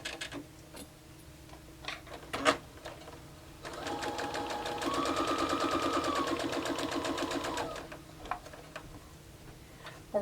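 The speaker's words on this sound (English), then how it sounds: "And we are going to stitch" A sewing machine stitches quilt squares for a nine patch block in a steady run of rapid mechanical ticking, starting a few seconds in and lasting about four seconds, with faint clicks before and after.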